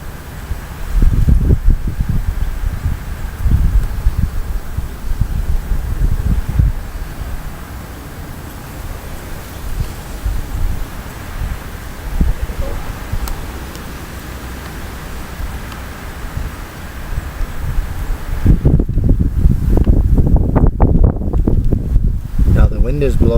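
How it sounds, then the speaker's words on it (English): Outdoor wind gusting across a garden where radish seeds are being planted, a loud steady rumble buffeting the microphone with leafy rustle, swelling stronger near the end. "Now the wind is blowing and I gotta hold these seeds in my hand."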